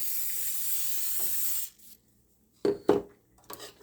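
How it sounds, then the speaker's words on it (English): A long, close hiss of cooking oil spray onto a pan for baking salmon lasts over a second and a half, then stops, followed by a few clinks of cookware. "so I'll spray the cooking oil on this pan now"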